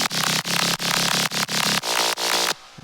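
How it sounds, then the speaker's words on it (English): A gnarly, buzzy synth mid bass for a melodic jump-up drum and bass drop plays alone, loud and close, in a chopped rhythmic pattern of repeated stabs that cuts off cleanly near the end. "So we're going to build a mid bass like this."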